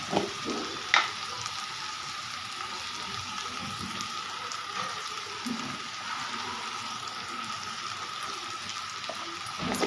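Mustard seeds frying with turmeric in a pan give off a steady, moderately quiet sizzle, with a brief clatter near the start and light stirring throughout, no talk heard.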